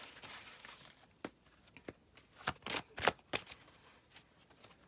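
A deck of Romance Angels oracle cards is shuffled close by, quiet at first, then a run of sharp riffling bursts that grow louder toward the end, with no voices.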